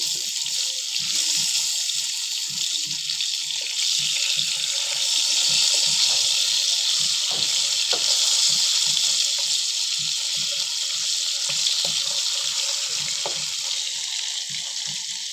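Hilsa fish fries in a pan with a steady, hissing sizzle that runs on without a break, dotted with soft pops and spatters throughout.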